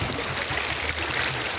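A nameless river near a grassland flows steadily, with a continuous broadband wash of moving water close by and no talk.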